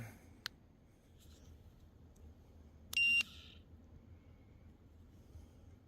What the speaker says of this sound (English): Just one quick little beep, and they start coming back.